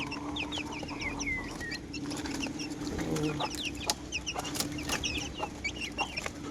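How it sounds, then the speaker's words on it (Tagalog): Hens and young chicks on a small backyard flock cluck and peep steadily at close range, with rapid high chirps layered over low clucking and no talk. "Yung mga sisiw ko. Malalaki na sila guys."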